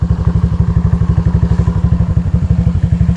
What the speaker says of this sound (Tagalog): sana kaya na itong motor natin guys. At hindi tayo tumaob. Ang tarik eh.